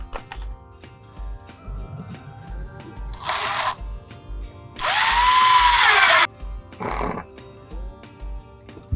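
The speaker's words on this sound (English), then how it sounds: "And screw your short piece into place." A power drill drives a screw into a wooden outdoor bench piece, with short whirring bursts and one longer steady run, separated by quiet handling taps.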